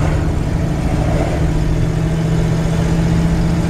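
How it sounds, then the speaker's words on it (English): A 1964 Chevrolet C10 pickup truck engine rumbles steadily with a deep, even exhaust drone, loud and continuous throughout. "it's a perfect truck exhaust sound"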